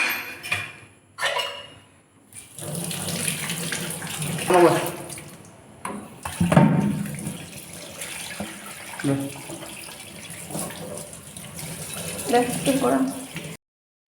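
Dishes are washed under running tap water with homemade dish soap, a continuous splashing stream with clinks, while someone talks over it.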